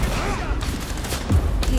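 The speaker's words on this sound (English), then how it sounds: "Firing!" Gunfire in Vampire: The Masquerade – Bloodlines 2, scattered shots and bursts over a busy combat mix, moderately loud with a few sharp cracks standing out and speech-like game voices in the background.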